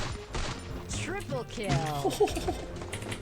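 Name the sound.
gunfire in the video game Free Fire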